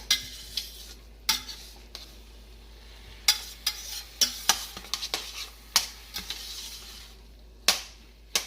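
Pre-seasoned vegan meat sautéing in margarine: sharp clacks and scrapes of a utensil against the pan come in irregular bursts over a low, faint sizzle.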